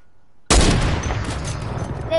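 Loud gunfire from a multiplayer shooter game erupts suddenly after a brief quiet moment, then continues as a dense, close barrage of overlapping shots and rattling bursts.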